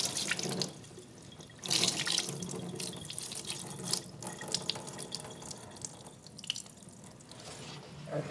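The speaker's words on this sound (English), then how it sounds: "I'm just going to use my hand as a strainer and drain it into the sink." Whey from homemade mozzarella made with powdered milk, poured through a hand into a kitchen sink, giving a steady splashing trickle with a few louder gushes and drips, close by.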